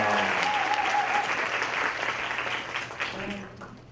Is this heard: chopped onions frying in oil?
no